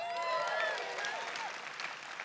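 A church audience applauds and cheers continuously, a dense wash of clapping with scattered whoops and shouts throughout.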